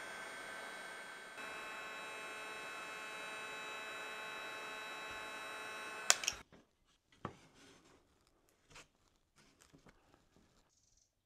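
A Dewalt 18V cordless heat gun runs with a steady, loud fan whir and electrical hum for about six seconds, then cuts off, leaving faint clicks and handling noises.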